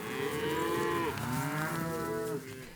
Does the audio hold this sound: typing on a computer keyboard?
no